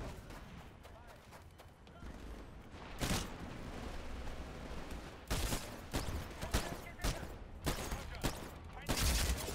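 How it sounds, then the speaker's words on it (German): Gunfire in a Titanfall firefight, bursts of rapid automatic shots and louder sharp blasts spaced through a busy battle din, close and loud with occasional heavier reports. "Die ballern hier schon rum."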